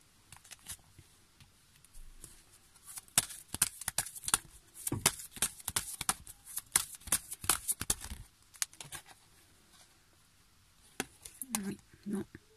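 Oracle cards being shuffled and laid out on a table, a dense run of quick papery flicks and soft slaps in the middle, then scattered single taps of cards set down, with a voice speaking briefly near the end.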